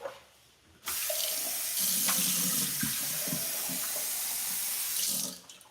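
Water runs steadily from a tap into a glass, a loud continuous hiss of flow starting abruptly and cutting off near the end, close by and alone with no talk.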